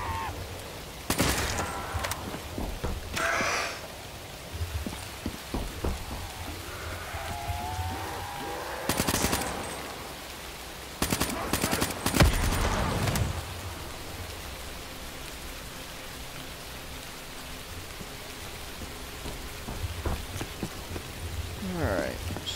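Steady rain hiss from a rainy swamp map in Call of Duty custom zombies, running throughout under bursts of loud gunfire and occasional game effects.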